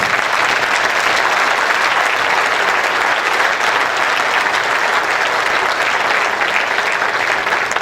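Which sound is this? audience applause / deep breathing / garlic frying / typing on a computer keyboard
audience applause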